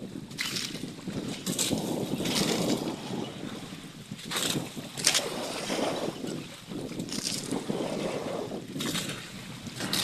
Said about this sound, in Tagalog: Ang daming bangka.